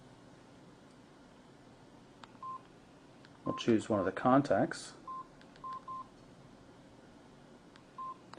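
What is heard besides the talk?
mobile phone keypad button tones while typing a text message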